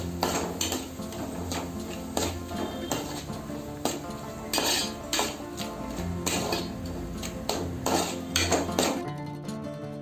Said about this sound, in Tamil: இப்போ அது எல்லாத்தையும் நல்லா எண்ணெயில் வதக்கிடுங்க.